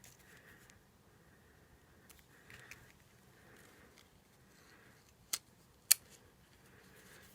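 Scissors cutting card paper for a handmade shutter card, two quick crisp snips close by after a stretch of quiet table rustling.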